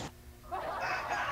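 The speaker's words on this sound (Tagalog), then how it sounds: "manok yung naririnig ko" Chickens clucking in the background of a phone call, a faint noisy bed followed by broader clucking sounds that rise after a brief pause and continue steadily.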